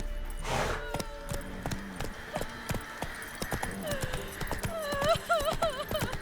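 Geralt's horse Roach gallops in The Witcher 3, rhythmic clip-clop hoofbeats close and steady, with a whinny and game music, while a voice speaks.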